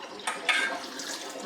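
Homemade butter being washed in a bowl of water, with soft sloshing and splashing, a couple of brief louder splashes, and steady wet swishing close by.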